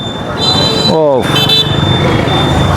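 A motorcycle rides into a cattle and goat market set up for Eid al-Adha, its steady engine drone loud and close with a brief horn toot in the middle.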